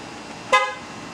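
A single short horn chirp from a Ford Mustang S550 as the car is locked, one clear close toot over quiet background hum.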